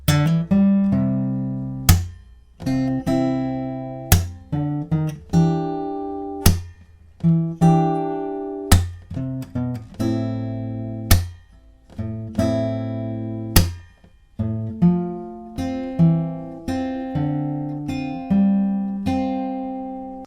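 A plucked acoustic guitar riff played alone, fingerpicked notes ringing in a steady repeating pattern with regular accented strums, clear and close.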